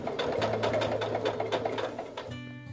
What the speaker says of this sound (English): Okay, so I got that sewing done.